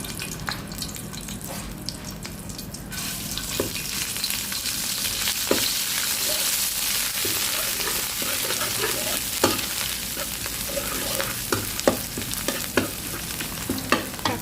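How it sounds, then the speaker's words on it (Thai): Thai curry paste sizzles and fries in a hot pan while a utensil stirs and scrapes, with scattered clinks throughout. "ไปตั้งกระทะผัด พริกแกงกันค่ะ"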